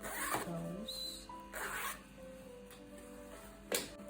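A clothing zipper is slid open and closed several times at close range, giving short quick rasping strokes separated by brief pauses.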